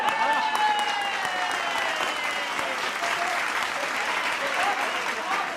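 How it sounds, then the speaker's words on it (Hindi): Audience applause fills a political comedy show about the West Bengal elections: loud, dense, sustained clapping from a large crowd, steady for several seconds with no break. "एक बार जोरदार ताली"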